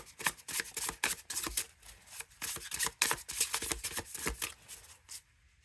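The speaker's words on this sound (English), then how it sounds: "let's just go and shuffle" A Life Is Like A Board Game tarot deck is shuffled by hand up close, a continuous papery riffling and rubbing with quick repeated flicks, steady for several seconds before stopping.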